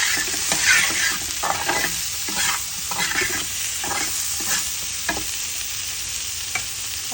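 Hot water goes into a sizzling pan seasoned with salt and chilli powder for a potato and koral fish dish, producing a loud hissing burst early on, then ongoing bubbling sizzle with scattered stirring scrapes, close up and without voices.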